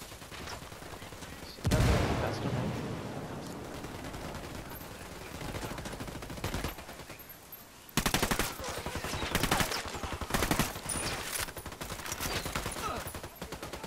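A loud explosion from a thrown frag grenade opens a firefight in Ghost Recon Wildlands. Rapid automatic gunfire bursts follow, loud and close, and a voice speaks briefly over the shooting.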